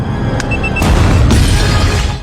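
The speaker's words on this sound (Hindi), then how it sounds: "सॉल्ट एक ऑटोमेटिक बॉम्ब को छत से लगाकर" A bomb blast in the 2010 spy action film Salt, a sharp crash and boom with shattering debris, loud and close, swelling again a second later.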